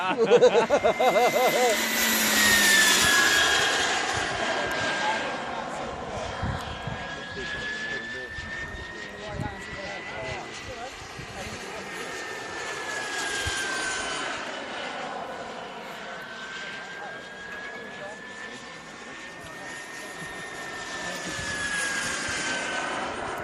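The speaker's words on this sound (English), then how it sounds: "Do a flyby for me, Andy." A turbine-powered RC jet roars past with a whooshing turbine whine that rises and falls across the pass, with people talking beneath it.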